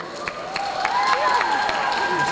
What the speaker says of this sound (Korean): 여러분 박수 한번 부탁드릴게요